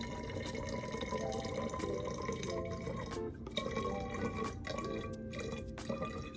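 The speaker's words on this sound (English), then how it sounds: "because this is a taller bottle, it's gonna take a little bit more water. So we'll fill it up" Water pouring into a tall plastic bottle, a continuous splashing trickle with rising resonant tones and drips, close and fairly quiet, with a brief dip mid-fill.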